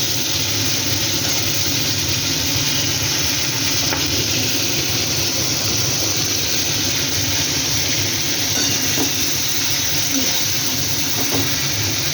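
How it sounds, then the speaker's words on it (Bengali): Flat beans (shim) frying lightly in a pan give a steady, continuous sizzle that stays fairly loud and even from start to finish, with a faint murmur of background noise beneath it. "হালকা করে সিমগুলো ভেজে নিচ্ছি"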